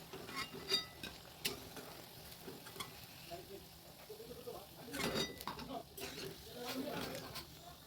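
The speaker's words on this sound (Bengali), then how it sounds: "এবার আমি এগুলো কড়াই থেকে একটা একটা করে তুলে নেব।" Fried fritters made from leftover rice being lifted one by one out of a wok, with faint oil sizzle and intermittent scraping and stirring clinks from the utensil, while a person speaks over it.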